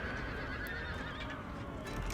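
Cavalry horses in Shogun 2 whinny and neigh amid battle, several overlapping calls rising from a constant low clamor of combat at moderate distance.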